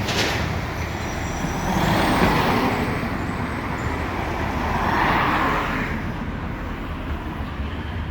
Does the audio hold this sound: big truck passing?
yes